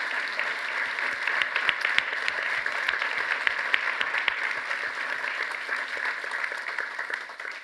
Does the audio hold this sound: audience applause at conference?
yes